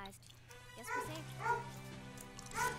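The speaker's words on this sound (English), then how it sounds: "That's my dog barking." A pet dog barks a few times in the background, short yelping calls spaced about a second apart, heard faintly at a distance alongside a gaming livestream's low sound.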